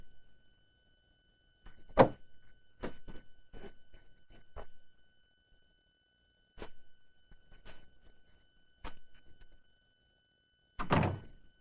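Someone works a door in a quiet room in a spy drama set in Rome, making a string of dull thunks and clicks spread across several seconds, with a heavier knock near the end.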